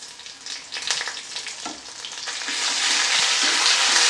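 Browned onions with ginger-garlic paste sizzle in a frying pan for egg omelette curry, stirred with quick scrapes as the hiss swells louder toward the end.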